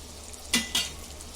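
Malpua frying in hot ghee gives a steady low sizzle, broken by two brief louder splashing scrapes as the ghee is spooned over, close and without speech.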